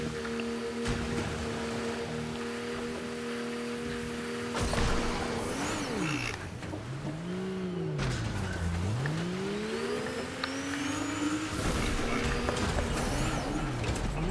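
A car drives around Mega City in a video game, its engine droning steadily, then rising and falling in pitch as it speeds up and slows, with a whooshing rush and occasional mechanical clunks.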